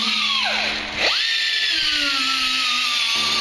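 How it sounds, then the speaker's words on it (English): A 90-degree angle grinder cleaning up the cut edge of a board, whining steadily at high pitch, dipping briefly as the disc bites, then spinning back up and holding its loud, continuous whir. "Just taking a 90-degree grinder here, we're going to clean up the edge."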